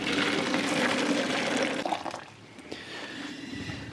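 Hot water from a tap runs and splashes into a container in a home garage, a steady close pour for about two seconds that then thins to a faint trickle.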